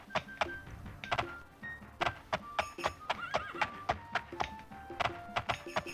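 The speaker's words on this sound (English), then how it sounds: "I love riding on my horse." Horse hooves in the video game Daggerfall clop in a steady, fairly close rhythm of sharp thuds, with an occasional whinny and short tonal chimes mixed in.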